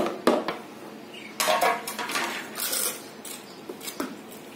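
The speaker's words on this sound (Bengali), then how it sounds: "এভাবে ডিমকে ডিমকে এভাবে গুঁড়া করে নেবেন" Dried eggshells being crushed into powder for garden fertilizer, a series of sharp brittle crunches and clinks in bursts, close and fairly loud, with short pauses between rounds of pressing.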